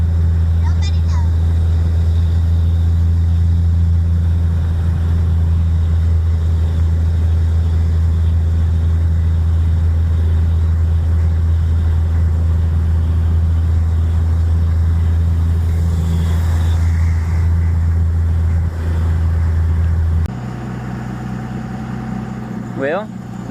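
A 5.9 Cummins diesel firewood truck drones loudly and steadily as it drives through the countryside, a low constant engine rumble that drops in pitch near the end, with people talking inside the cab.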